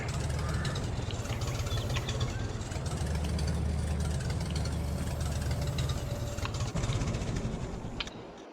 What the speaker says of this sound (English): new tractor's working out pretty good here for me.